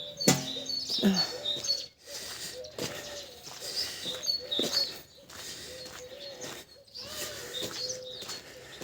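Pigeons cooing and birds chirping nearby, with a few brief flutters and scattered outdoor noise, no talking.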